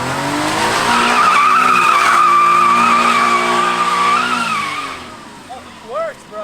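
Kei truck with a welded differential sliding off-road, a loud sustained tire squeal rising and holding for several seconds over a buzzing small engine, then fading, with a brief voice near the end.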